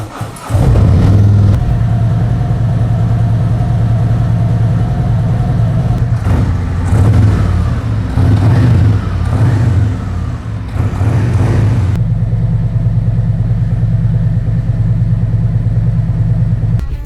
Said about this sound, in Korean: CRF 머플러 중후함과 저음 베이스에 아주 최적화되어 있는 아주 훌륭한 머플러라는 생각이 들고요